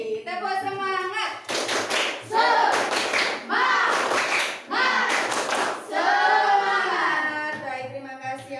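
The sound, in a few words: children doing a rhythmic spirit clap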